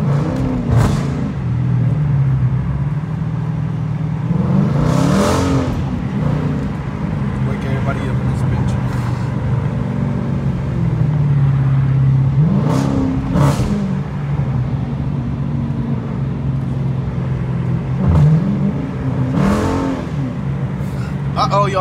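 A Dodge Challenger R/T switched into track mode rumbles with a steady low engine drone, swelling into several revving surges before the tires spin on an early-morning street, with someone talking over it throughout.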